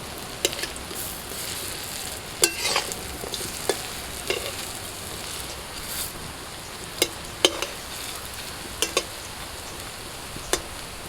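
Lentil dumplings fry in hot oil after being turned over, a constant close sizzle punctuated by sharp scrapes and clinks of a spatula stirring against the pan, with no talking.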